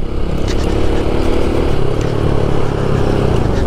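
A motorcycle engine runs loud and close on an adventure ride toward mountain rice terraces, a steady rumbling drone with some clatter and whir, no talking over it.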